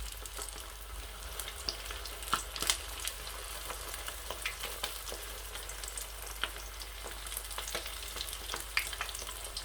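Chicken wing sticks fry in hot oil, giving a continuous quiet crackling sizzle with scattered sharp pops close by.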